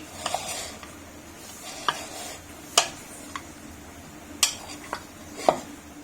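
Sliced potatoes for aloo pakora are tossed together in a bowl, giving a soft rustling bed broken by scattered clinks of a spoon against the dish at irregular intervals.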